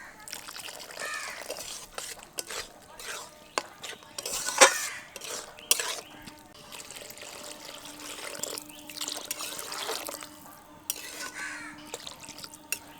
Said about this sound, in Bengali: আমি এখানে প্রায় 1 মগ পরিমাণ জল দিয়ে দিলাম।